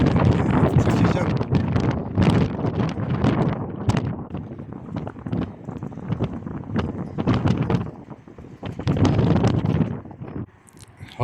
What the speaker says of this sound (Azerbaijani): Hava küləkli olduğu üçün